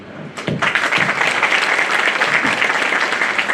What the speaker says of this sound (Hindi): ऐसे ताली वकील थोड़ी बजाते हैं।